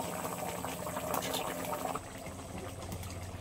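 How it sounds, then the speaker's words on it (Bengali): A pot of curry made with live koi fish and coconut water bubbles at a rolling boil, a steady close burbling and popping of liquid, fairly soft, without speech. "আর তরকারিটা ভালোভাবে ফুটে উঠেছে।"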